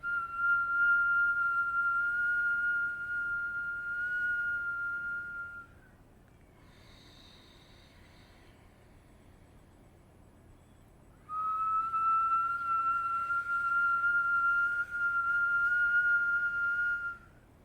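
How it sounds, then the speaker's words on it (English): A steady high whistling breath drawn in during a calm breathing practice, held for about six seconds, then a quiet pause with soft nasal exhale, then a second long whistled inhale, close and alone. "Feeling that cool air entering as we're whistling."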